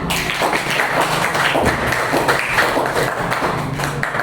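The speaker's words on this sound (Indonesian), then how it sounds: "tepuk tangan" Classroom applause for a student who answered a fraction multiplication question, a short burst of many hands clapping and tapping at close range, filling the whole moment without talk.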